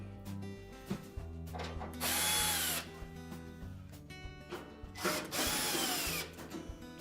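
A power drill whirs in two loud bursts, backing screws out of the back panel of a Whirlpool range, with ratcheting clicks and small clunks in between, close and clear with no talking.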